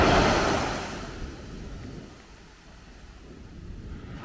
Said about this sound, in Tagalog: Malakas pa rin pala yung alon.